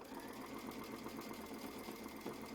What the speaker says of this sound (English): we'll do a little bit of stitching